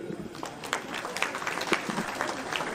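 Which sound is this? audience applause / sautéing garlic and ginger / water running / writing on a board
audience applause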